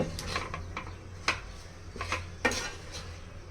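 A utensil scrapes and knocks against a pan while shredded cabbage and noodle spices are stirred for vegetable egg noodles, with a few sharp clacks over a low sizzle and no talk.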